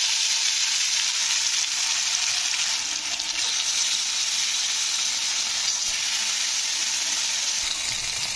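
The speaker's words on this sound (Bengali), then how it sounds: "তো এবারে মাছগুলোকে আমি ভেজে নিই" Pieces of chital fish frying in smoking-hot oil, a loud, continuous hissing sizzle held steady throughout with no talking.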